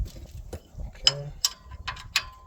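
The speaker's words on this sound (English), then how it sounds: "grab another wrench just to loosen them up" A wrench loosening penetrant-sprayed bolts on the engine of a Miller 400D welder, giving a few close, sharp metallic ratcheting clicks and clanks over a low rumble, with a voice speaking briefly.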